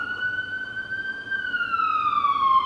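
A wailing emergency siren sweeps steadily in pitch at moderate distance, with faint background noise and no voices.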